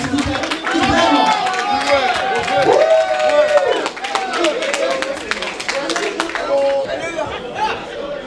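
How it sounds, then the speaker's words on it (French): A Paris gathering of a Carbet association breaks into lively clapping and cheering, with many voices chattering and calling out over the applause from start to finish. "Applaudissez là, s'il vous plaît."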